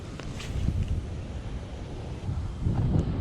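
Steady wind buffets the microphone on a fishing boat out on the water, a constant low rumble that swells slightly louder toward the end, with no talking.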